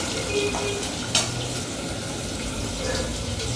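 Rohu fish fries in a pan in a home kitchen, giving a steady, even sizzle with a single utensil clink partway through.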